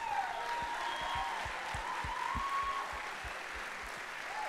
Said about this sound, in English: let's give another round of applause for these fantastic students